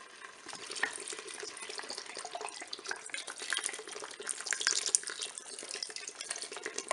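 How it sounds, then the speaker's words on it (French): Beer pours into a Cookeo pot for Flemish carbonade, a steady close stream of fizzing liquid that builds slightly over several seconds, with no voices. "Je vais verser la bière."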